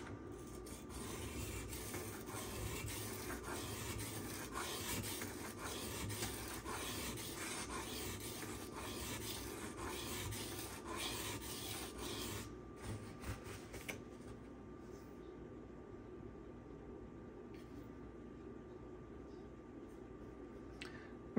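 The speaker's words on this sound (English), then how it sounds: "I may be sharpening a little bit higher of an angle than what he had" Steady rasping strokes of a Spyderco Manix folding knife in CPM 15V steel being sharpened on a stone, continuous and close, easing slightly quieter toward the end.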